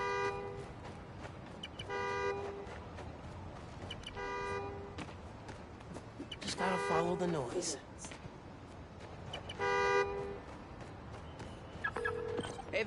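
Car horn in the Spider-Man video game, set off by a key fob press, honks in repeated bursts at steady intervals from a short distance, with game dialogue and ambient city sounds around it.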